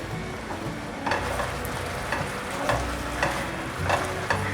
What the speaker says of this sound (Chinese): 缓缓的搅拌，让咖喱块融化。